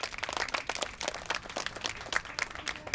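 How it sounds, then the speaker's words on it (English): Audience applause after a book-related talk about stories of endurance and survival: a quiet, scattered patter of hand claps from a modest crowd, fairly distant and uneven. "One more round of applause for this."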